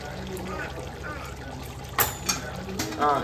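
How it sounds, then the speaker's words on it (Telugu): Water is splashed into a pan of nearly cooked chicken curry with garam masala to make gravy, brief pouring bursts over a steady background hum while someone talks nearby. "గ్రేవీ కోసం కొంచెం లైట్గా వాటర్ వేసుకోవాలండి"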